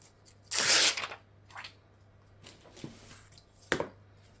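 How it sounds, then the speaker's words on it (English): Plastic backing is peeled off an edible cake image, a quick crackling tear followed by a few softer rustling pulls and small crinkles, close and fairly quiet. "It has a plastic backing, so I'm going to peel that off now."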